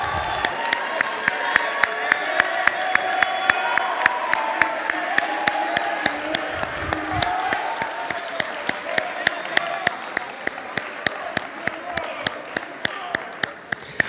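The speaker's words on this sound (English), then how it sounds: "let's give them another huge round of applause for the 2018 Springdale High School Band senior class" An audience at the Springdale High School Bands' spring concert claps and cheers for the 2018 senior class, sustained applause with sharp individual claps and a few whoops.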